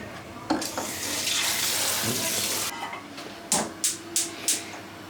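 Cold tap water runs steadily into a sink for about two seconds, then cuts off, followed by several quick splashy bursts as washing continues.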